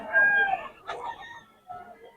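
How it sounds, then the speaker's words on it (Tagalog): Backyard chickens cluck and a rooster gives a brief crow nearby, a few short calls at moderate volume with quiet gaps between them. "Maganda ng mga manok ni boss."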